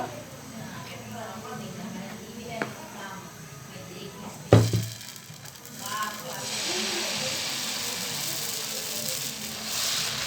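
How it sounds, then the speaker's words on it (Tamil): Thick homemade idli-dosa batter poured onto a hot pan for an aloo masala roast dosa: a clatter near the middle, then a steady broad hiss of sizzling that holds to the end, with a soft voice early on. "நான் கொஞ்சம் தோசைக்கு கொஞ்சம் கெட்டியாக தான் ஊற்றுவேன்"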